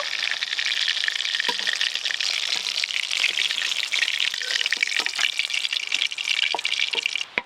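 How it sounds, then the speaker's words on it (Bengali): Pieces of hilsa fish crackle and hiss continuously in hot oil, a close, even sizzle with small pops scattered through it. No voices are heard. "বাকি মাছগুলো একই রকমভাবে ভেজে নেব।"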